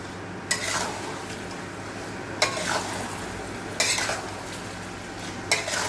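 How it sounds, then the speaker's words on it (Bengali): Salted mutton being stirred in a sizzling wok, with four sharp scraping strokes of a spatula against the metal over a continuous frying hiss, loud and close. "কড়াইতে মটনটা ভালো করে নাড়িয়ে দেব"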